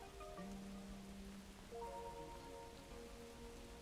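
Steady soft rainfall in the video game Don't Starve, a constant hiss of drops on surfaces with faint tonal game music lines drifting over it, no voices.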